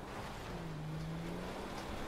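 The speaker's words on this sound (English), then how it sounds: "We're gonna go through the water." In GTA 5, an off-road vehicle drives through water, giving a soft wash of splashing and surf with a faint low engine drone and no talking.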